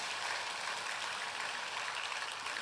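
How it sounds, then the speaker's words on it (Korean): A congregation applauds during a Sunday church sermon, a steady wash of many hands clapping together at moderate volume for a few seconds, with no voices over it. "아이고 우리 하나님 박수 좀 쳐드려"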